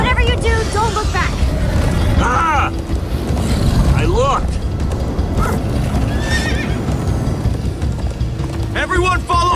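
Horses neigh and whinny repeatedly over galloping hooves in the video game Minecraft Story Mode, loud and close, with wind, rushing movement and excited voices shouting throughout.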